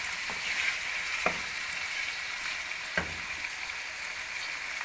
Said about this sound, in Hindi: दो मिनट इसे मज़ीद भूनेंगे।